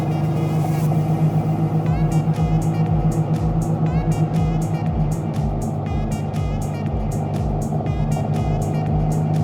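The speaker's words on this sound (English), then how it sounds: "It's got that real Weber pulse to it that you can hear as well, and I like this exhaust." A classic Mini with a Weber carburettor and an aftermarket exhaust, heard while driving: a loud, close engine drone with a steady rhythmic pulsing throb that continues throughout.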